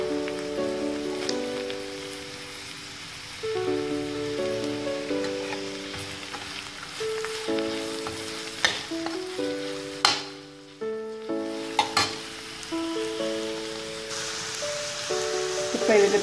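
Chopped big onions sauté in a hot pan for egg kulambu, a continuous soft sizzle with occasional stirring scrapes, partly masked by melodic background music.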